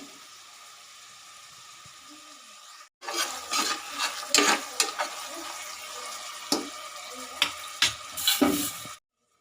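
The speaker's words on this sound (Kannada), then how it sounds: "ಎಲ್ಲ ಒಟ್ಟಿಗೆ ಹಾಕಿ ಚೆನ್ನಾಗಿ ಫ್ರೈ ಮಾಡ್ಕೊಳ್ತಾ ಇದ್ದೀನಿ" Onion, green chili and tomato fry together in a pan. After a quiet start the sizzling comes in close and fairly loud, broken by stirring scrapes and sharper spattering bursts, with no voices.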